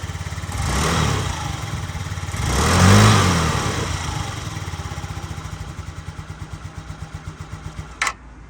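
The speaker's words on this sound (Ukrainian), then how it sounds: "О, як тихенько гарно працює двигун." A Yamaha BWS 49 fuel-injected four-stroke scooter engine idles steadily with a low, even putter, rising briefly in the first seconds, then settling into a rhythmic chug, followed by a short click near the end.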